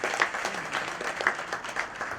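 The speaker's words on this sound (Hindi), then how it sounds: "एक बार जोरदार तालियां" An audience at a ceremony honoring a guest breaks into steady, moderately loud applause, a dense wash of clapping from many hands that carries evenly throughout.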